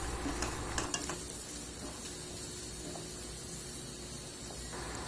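Onions sauté in a hot pan for a creamy party dish, producing a steady close sizzle and hiss with a few brief scraping stirs early on, no voices present.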